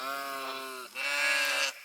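Sheep kept in a vineyard bleat twice, a long wavering call followed by a brief pause and a second louder, higher bleat, close and clear against a quiet background.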